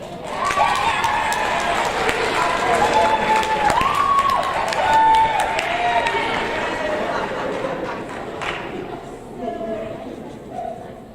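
An audience at an eighth-grade awards ceremony applauds students in a long, full round of clapping and cheering that holds steady, then tapers off, with voices and chatter mixed in.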